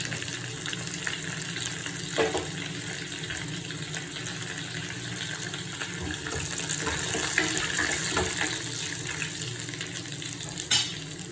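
Curry leaves and fenugreek fry in oil, producing a continuous, dense, watery sizzle that stays steady and close throughout, with a few faint clicks and no talking.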